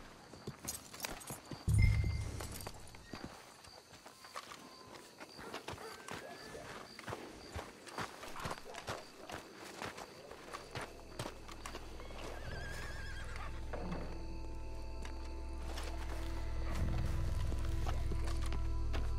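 Horse hooves clop steadily on a hard surface in Red Dead Redemption 2 game audio, with a whinny early on, while a low rumbling ambience swells toward the end.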